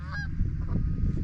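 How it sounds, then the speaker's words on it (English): Geese honk loudly and close during a goose hunt in Pennsylvania, a few raspy calls over a dense low rumble of flock and field noise. "There's a lot of birds."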